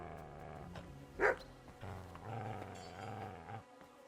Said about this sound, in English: Hello, little doggy.